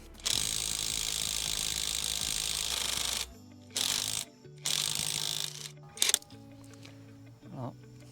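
A TEENO brushless impact wrench on its lowest mode runs in several whirring bursts as it drives rusty bolts back in, the first long and the later ones shorter, close and loud, with someone speaking briefly between them.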